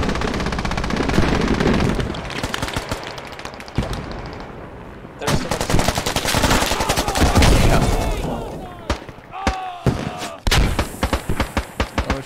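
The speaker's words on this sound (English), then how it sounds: "Spawning in and rockets flying by is not a good sign." Rockets flying by in the video game SQUAD amid 100-player warfare, with loud bursts of automatic gunfire, booming impacts and whooshing blasts filling the stretch, interrupted by brief lulls.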